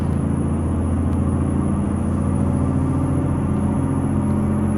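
A Kenworth T300 truck with a Cat C7 diesel engine pulling a SmithCo side dump accelerates in a steady, loud, droning rumble with a constant engine hum heard from inside the cab.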